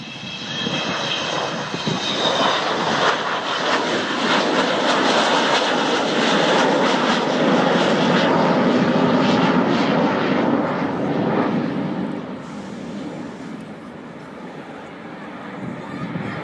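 Avro Vulcan bomber XH588 making a low pass with landing gear down at the Royal Naval Air Station Culdrose air show in 2014, a loud sustained engine roar that swells and fades, with commentary talking over it.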